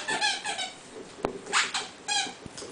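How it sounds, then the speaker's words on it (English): Squeaky dog toy squeaked repeatedly in short bursts during play with a Yorkie, close and fairly loud, with a few soft thumps between the squeaks. "Give me the Squeaky."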